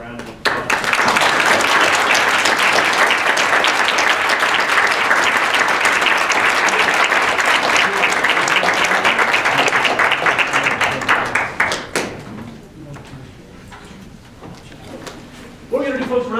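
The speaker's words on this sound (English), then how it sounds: "I'd like to give a round of applause." An audience at a mock trial competition bursts into loud, sustained applause lasting about eleven seconds before thinning out, with a bit of room noise and a brief clap at the end.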